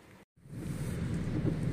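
Steady rain drumming on a car during a ride to the airport terminal, a dense continuous wash that begins after a brief silent gap and holds at a moderate level with no talking.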